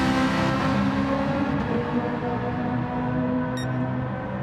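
Porsche race cars roar through a race in the pack, engines holding a loud, steady drone with layered tones and brief whine, no talk over it.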